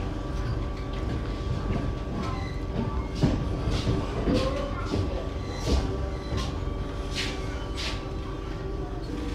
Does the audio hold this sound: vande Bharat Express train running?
yes